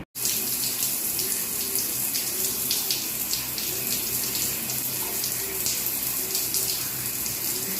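Rice being washed under a steadily running kitchen tap, water gushing continuously and close by, with faint splashing and stirring and no talk.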